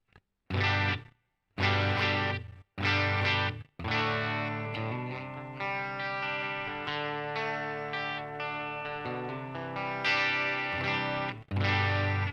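Electric guitar through a Line 6 POD Go multi-effects processor, a few short distorted stabs followed by a long sustained chord with chorus and echo, played alone.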